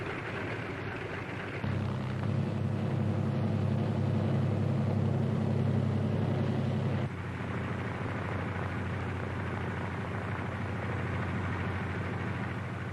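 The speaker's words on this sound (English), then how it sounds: "other C-47s move into position for their takeoff at the head of the runway" A WWII C-47 transport plane taxiing into takeoff position at the head of a runway, with a steady low engine drone that swells louder for a few seconds before settling back to a constant rumble.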